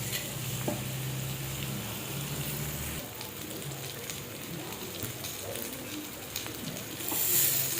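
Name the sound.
tilapia fish shallow frying in oil on a tawa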